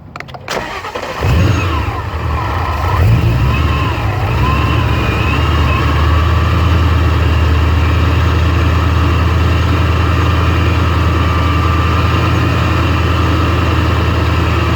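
A supercharged 800 HP Coyote Mustang engine with a Paxton 2200 blower and fueling issues catches and settles into a loud, close, steady rumbling idle with a faint whine on top, running alone with no talk.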